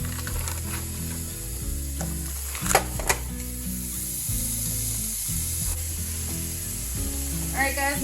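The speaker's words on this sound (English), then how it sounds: "We're gonna go ahead and put our burgers into our pan." Frozen hamburger patties sizzle steadily in a frying pan for a patty melt, a continuous crackling hiss with a few brief clatters of a utensil and a low hum of background music beneath.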